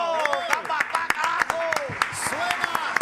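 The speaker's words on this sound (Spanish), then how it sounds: "Fuerte el aplauso." An audience at a community music show claps loudly and continuously, with sharp individual claps standing out over a layer of overlapping voices.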